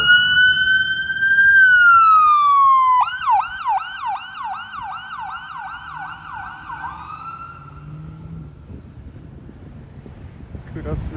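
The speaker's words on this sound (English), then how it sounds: "I don't want to cross here because we got an ambulance trying to make its way" Ambulance siren moving through a Toronto street intersection, first a rising-and-falling wail, then a rapid yelping sweep repeating about a dozen times before cutting off, loud and close over traffic and wind noise.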